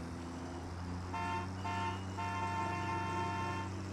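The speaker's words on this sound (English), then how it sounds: "You can if you left click while driving the truck, it honks." A truck horn in a video game honks three times in quick succession, loud and sustained, each blast cut off sharply, over a constant engine drone with no talk.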